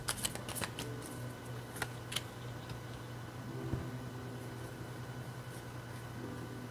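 Tarot cards are shuffled in quick riffling bursts, loudest at the start and then continuing as a softer, steady shuffling over a low background hum, with no talking.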